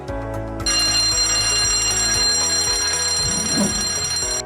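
Emergency alarm in a polytechnic convocation hall, a steady electronic bell-like ringing tone sounding continuously and fairly loud, with no talk over it.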